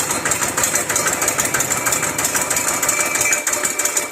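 A steady, close automatic water pump motor hum with a buzzing rattle from its vibrating stand, running continuously without pause or voices.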